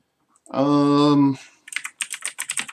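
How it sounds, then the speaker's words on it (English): A long sung or hummed tone, then a quick burst of keyboard typing, several sharp clicking keystrokes in rapid succession, close up. "More keyboard sounds, sorry."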